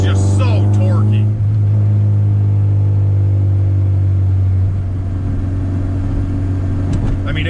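A K24-swapped Acura Integra cruises in fifth gear, its engine giving a steady, loud low drone and rumble inside the cabin while someone talks over it.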